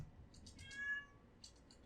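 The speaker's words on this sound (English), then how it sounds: "there's a cat on the battlefield." A single faint cat meow in the video game XCOM 2, short and quiet, with soft clicks around it.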